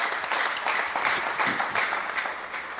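Audience applause in a Congolese television studio, a steady dense wash of clapping held at even loudness for a few seconds, with no talk over it.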